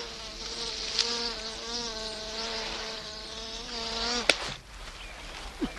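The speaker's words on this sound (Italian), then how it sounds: "Eppure mi sembrava di aver visto una zanzara." A mosquito buzzes close by with a thin, steady, slightly wavering whine that lasts several seconds, punctuated by a couple of sharp clicks or slaps.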